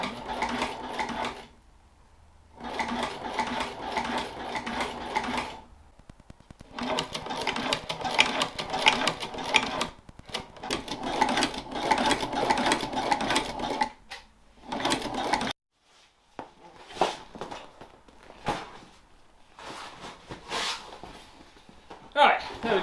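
Sewing machine stitching a deer drag bag, running in several whirring bursts separated by short pauses, with occasional handling clatter between runs.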